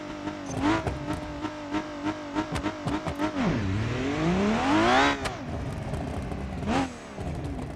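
Car engine in BeamNG.drive, a blue BX roadkill project on a test pass, revving hard with sharp throttle blips then a long sweeping rise in pitch and a drop off, loud and close with no talk.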